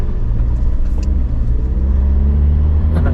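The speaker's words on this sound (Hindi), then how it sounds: "फुल ट्रैफिक आ रही है" Heavy road traffic near the Malaysia–Thailand border, a loud continuous low engine rumble of nearby cars with faint higher squeaks on top and no talk.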